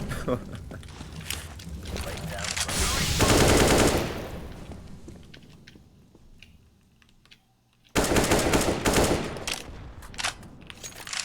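Bursts of automatic gunfire in a video game map playtest, loud rattling volleys that fade to a near-silent gap and then resume abruptly, with players talking over the shooting.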